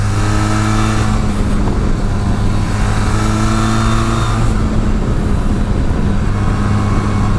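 Benelli TRK502 motorcycle engine pulling steadily under acceleration on an open road, a loud continuous drone with rising and shifting rev tones and wind rush throughout, no talking.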